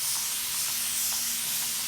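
An Evolve spray water bottle mists water onto hair in a steady, close hiss that continues without a break, bright and airy.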